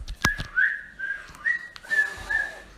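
A whistle tone used to call pigeons, a series of thin, high, sustained notes with brief pitch slides, interrupted by a few sharp clicks and no talk.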